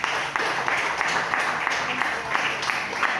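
A church congregation applauds with a dense, steady wash of clapping that carries on without a break, fairly loud and evenly spread.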